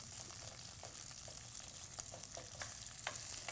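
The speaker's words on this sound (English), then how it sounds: "So this is just to kind of break up the onion a bit and let it saute evenly" A wooden spoon stirs sauteing onion in a pan, making a soft, constant sizzle with light, irregular scraping taps throughout and no one speaking.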